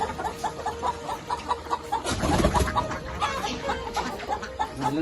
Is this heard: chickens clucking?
yes